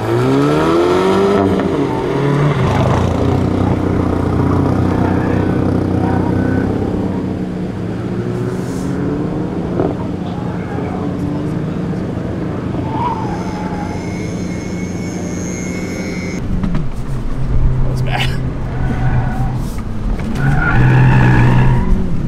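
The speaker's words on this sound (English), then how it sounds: "All right, Jimmy, second lap on the autocross course." A Hyundai car runs a lap on an autocross course in Germany, its engine revving loudly and rising and falling through the run while tyres squeal and skid in the corners, close and continuous throughout.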